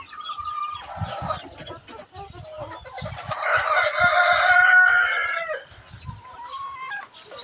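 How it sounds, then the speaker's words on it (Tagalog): Chickens and chicks cluck close by while feeding, and a rooster crows loudly in the middle, with scattered pecking and rustling sounds around them. "kumakain na yung mga sisiw ko"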